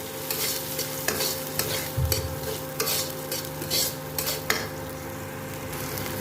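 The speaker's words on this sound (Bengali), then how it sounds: "পেঁয়াজটাকে একটু লাল লাল করে যেন ভাজা হয় সেভাবে ভাজবো।" Onions browning in a pan after ginger and garlic for an eggplant curry: a steady sizzle with regular scraping strokes and clinks of a spatula stirring, over a faint constant hum.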